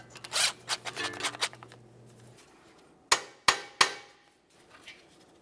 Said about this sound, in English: we'll tap on this lightly with a hammer.